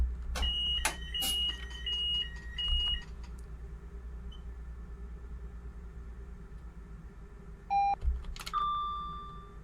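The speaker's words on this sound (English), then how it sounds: "press F to cancel the train fault alarm" A train fault alarm inside the cab of an AP Class 803 electric train in Train Sim Classic, sounding as short repeated electronic beeps over a low cab hum, with a second tone burst near the end.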